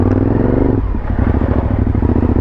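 A prepared Suzuki V-Strom motorcycle with a small aftermarket exhaust rumbles loudly and close while being ridden, its throaty note shifting as the revs change partway through.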